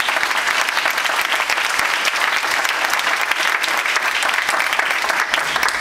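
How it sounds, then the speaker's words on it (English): Audience applause at an Educare dedication ceremony in Oklahoma City, a dense, loud, sustained wash of clapping from a large crowd with no pause. "Please give another round of applause."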